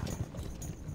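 Horse hooves clip-clop in the Stronghold HD strategy game, a steady muffled trotting under busy low game ambience across about a second.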